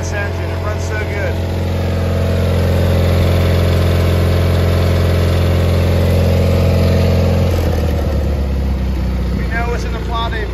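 Up close, a John Deere 318 lawn tractor engine idles in an even, steady chug, with a brief shift in tone near the end.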